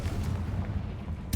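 A Confringo blasting spell firing in Hogwarts Legacy, a deep thudding boom with low rumble throughout and a sharper burst near the end.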